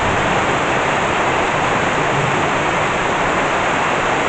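Heavy thunderstorm rain pours down in Burgos, a dense, steady roar of water that stays loud and constant throughout, with no voices over it.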